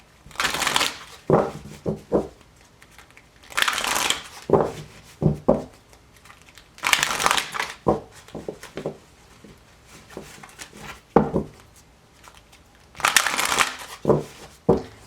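Repeated bursts of a card deck being shuffled, about five rounds of crisp riffling, each followed by a few soft taps as the deck is squared.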